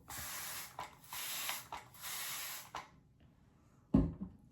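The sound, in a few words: spraying rubbing alcohol onto skin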